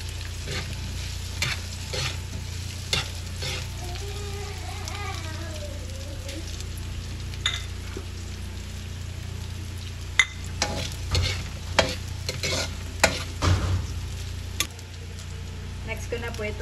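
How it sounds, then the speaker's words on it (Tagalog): Hotdogs fry in oil in a pan with a soft, steady sizzle, while a utensil scrapes and taps against the pan at irregular moments, a few of the knocks sharp and close. "Prito ko na rin po itong ating hotdog."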